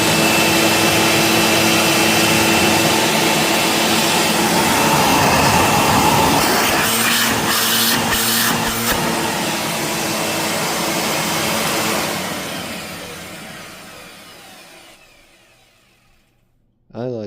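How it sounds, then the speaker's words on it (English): A Eureka Maxima 4750 vacuum cleaner runs with its hose disconnected, a loud, close motor roar that holds steady, then winds down and fades, followed by a brief sharp noise at the very end. "disconnect the hose so I don't suck any dirt into the motor, and we will test it"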